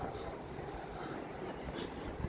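A sheltered dog gives a soft whimper and a few faint yips outdoors, low in level beneath a steady ambient background.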